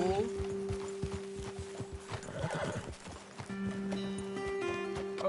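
Horses galloping in Red Dead Redemption 2, with steady hoofbeats and a whinny mixed under music and game ambience, fairly close and continuous.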